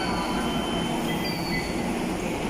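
An MRT train rolls through a station near Ortigas Center, producing a loud, continuous rumble with high metallic wheel squeal throughout, close by.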